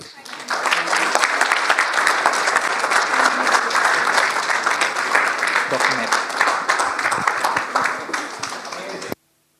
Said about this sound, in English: Can we have a big round of applause for all the committee members again for the wonderful day we had today till now.